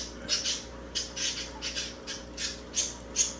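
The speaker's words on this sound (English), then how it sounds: "Sorry about the birds" Pet birds squawk close by indoors in a rapid, uneven series of about eight harsh, shrill calls over a low background hum.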